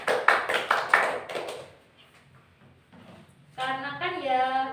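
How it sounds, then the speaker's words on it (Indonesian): A classroom group claps together in a quick burst of several sharp hand claps, close and fairly loud, followed by a pause and then a voice talking. "ayo kita beri aplaus pada diri sendiri"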